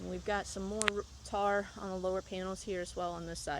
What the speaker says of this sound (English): you can actually hear the cicada chirping.